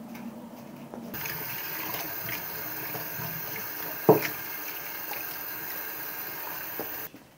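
Crab apples being rinsed under running water, a steady splashing and pouring wash with one brief louder splash partway through, close by and with no talking.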